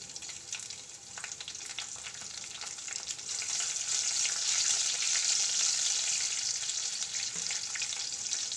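Long-cut green chillies with mustard and sesame seeds crackle in hot oil for a Gujarati khaman dhokla tempering: a steady, close sizzle that swells and stays loud throughout.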